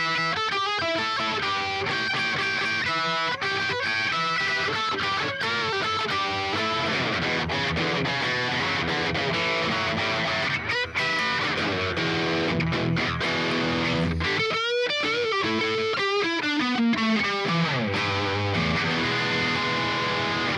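An Epiphone UpTown Kat ES electric guitar with a center block and mini humbucker pickups plays dense, powerful distorted chords and riffs for about twenty seconds, with no talking.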